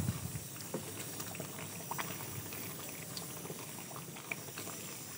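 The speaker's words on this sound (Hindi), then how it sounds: "तकरीबन तैयार हो चुकी है पालक।" Spinach simmering in a pot on a stove, a soft continuous bubbling and light patter of boiling liquid heard close and alone.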